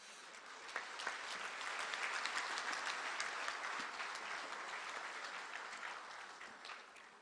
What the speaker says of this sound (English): A big applause to the President.